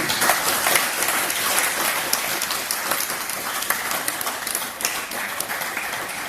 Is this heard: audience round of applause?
yes